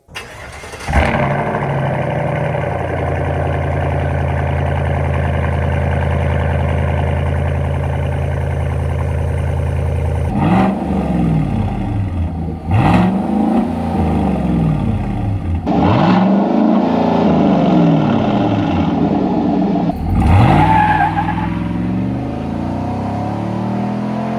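A Chevy Silverado truck with a 5.3 engine and a custom H-pipe exhaust starts up and settles into a deep idle, then gets several sharp revs that rise and fall, loud and close, no talk.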